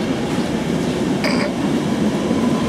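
A London Underground train pulls away from Stratford station with a steady, loud rumble of the carriages and a brief high metallic squeal partway through, no voices.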